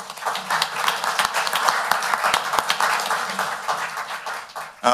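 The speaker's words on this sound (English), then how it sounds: "Let's give them a round of applause." A crowd applauds at a county council meeting, many hands clapping in a dense, steady patter that carries on for several seconds before tapering off.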